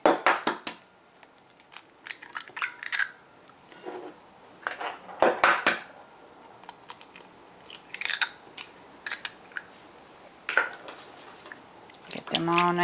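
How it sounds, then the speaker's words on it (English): Eggs cracked into a bowl and mixed for stuffed chili bread bowls, heard as scattered clinks, taps and crunchy cracking bursts with quiet gaps, close by, and a fast scraping whisk at the end. "I'm gonna put 2 eggs in"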